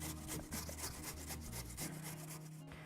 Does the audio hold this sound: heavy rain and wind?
no